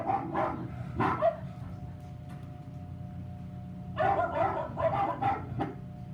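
A dog barks in short bursts during a community stage play, a couple of quick barks early, then a longer cluster of barks and yips after a pause, over a low steady hum in the hall.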